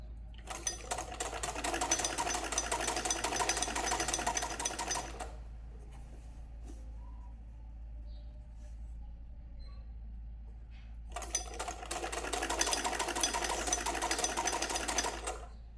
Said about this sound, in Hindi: इसी तरह हम दोनों साइड का सिल लेंगे